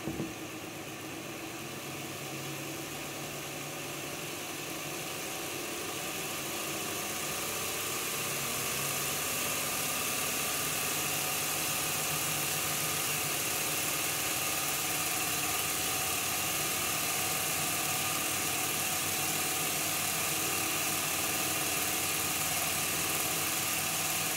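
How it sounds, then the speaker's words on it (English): The motor of an Accurascale Class 55 Deltic model locomotive runs in a steady, continuous whirring hum that rises slightly and then holds level. The sound is close and constant, with no talk. "Now that motor in there is going a lot faster for a start"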